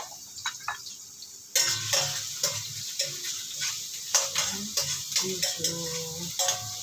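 Garlic and onion sizzle in reused oil that had been used to fry potatoes and carrots, a steady close crackle punctuated by the scrape and clink of a stirring utensil against the pan, with a brief spoken word.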